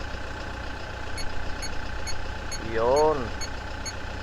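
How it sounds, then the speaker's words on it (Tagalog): A car engine idles steadily with a regular low hum and faint ticking, while a person speaks briefly over it. "Ngayon, paandarin natin yung makina."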